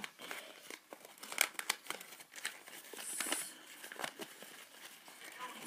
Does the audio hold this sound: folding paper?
yes